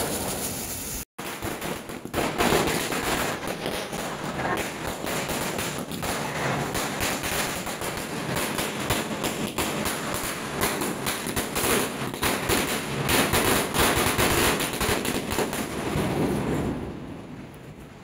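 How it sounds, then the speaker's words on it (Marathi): A long string of 1000 firecrackers goes off during Diwali in rapid, crackling succession for over fifteen seconds, loud and dense, before tapering off. "1000ची लढ लावत मस्त पॅकेट मध्ये"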